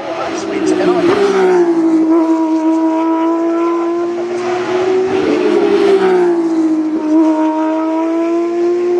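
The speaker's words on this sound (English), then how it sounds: "Here the cars come again." Race cars at the 2014 Melbourne Grand Prix community day scream past one after another, loud engine notes rising and falling as each car sweeps by.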